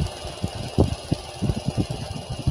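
A wood lathe spinning at about 1150 rpm while a spindle roughing gouge brings a blank down to round, giving a steady hum broken by repeated rhythmic thumping bursts from the cut.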